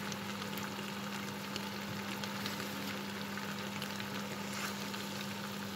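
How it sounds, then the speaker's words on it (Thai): Thai curry paste stir-fried in a pan for a southern-style minced pork kua kling, giving a steady, close sizzle and crackle that runs throughout over a low electrical hum, with no talking. "ผัดให้พริกแกงหอมนะคะผัดให้พริกแกงหอม"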